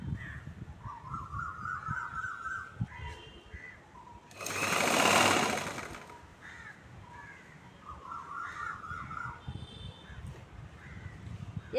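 A sewing machine stitches along the edge of a chudithar in a burst of steady whirring near the middle, with crows cawing in the background before and after.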